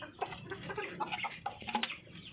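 Darag native chickens, fed fruit and vegetables, cluck softly in a quiet, continuous string of short calls with no talking over them.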